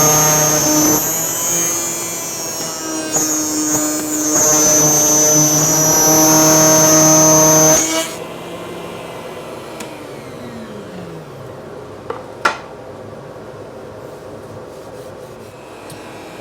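Router cutting a groove in walnut for a bath vanity rail, a loud, steady, high-pitched whine and rasp for about eight seconds that then stops abruptly, with the motor winding down and a few faint knocks afterward.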